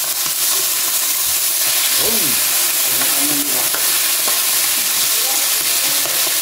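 Frog meat sizzles and fries steadily in a hot pan at a farm cookout, with occasional stirring scrapes and a brief spoken word over the constant frying hiss.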